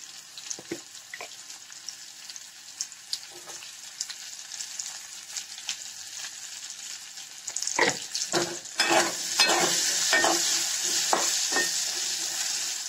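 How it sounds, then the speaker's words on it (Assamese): Cut potatoes fry with turmeric powder in a pan for a paneer dish, giving a steady sizzle with scattered stirring clacks that grows louder and denser toward the end. "ইয়া আমি কাটি লোৱা আলুখিনি অকমান ফ্ৰাই কৰি লম। আমাৰ ইয়াত হালধি গুৰি দিম।"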